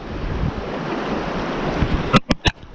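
Steady wind rushes past a bass angler at the shore during lure fishing, a broad continuous roar with a few sharp knocks near the end.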